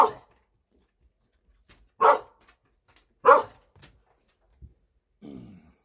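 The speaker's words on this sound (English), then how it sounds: "Apparently my dog is barking at the door for no reason." A pet dog named Ricky barks at the door indoors, four or five sharp separate barks spaced about a second apart, moderately close with quiet gaps between them.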